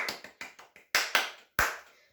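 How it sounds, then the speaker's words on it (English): A few sharp hand claps ring out alone: a quick run of lighter claps, then several louder, more widely spaced ones, close and crisp with short tails. "Can we get a round of applause?"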